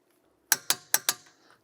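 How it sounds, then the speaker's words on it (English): A ratcheting torque wrench set to 140 newton meters tightens brake caliper bolts on a Porsche Panamera, giving four quick, crisp metallic clicks close by, then stopping. "we'll set our torque wrench to 140 Newton meters"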